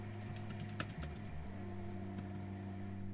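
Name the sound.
typing on Logitech K380 low-profile scissor-key keyboard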